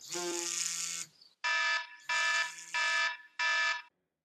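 An alarm clock rings in the morning, one long electronic tone followed by four short repeated beeps with brief gaps, clear and close with nothing else around.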